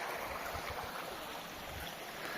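Running stream of water along a mountain trail leading up to a waterfall in Ukraine, a steady broadband rushing and trickling wash that stays even and close throughout, with no talk.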